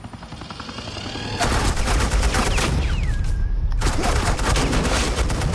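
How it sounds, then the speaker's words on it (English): Sustained automatic gunfire lays down suppressing fire in the Batman: The Enemy Within video game, a dense, loud rattle of shots that begins abruptly and continues without pause, with a brief whistling streak passing through. "Suppressing fire."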